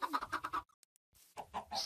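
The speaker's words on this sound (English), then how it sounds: "Oh, baby chicken!" A baby chicken in the Minecraft video game gives a few quick clucks, then a brief silence, then another short run of clucks, loud and close.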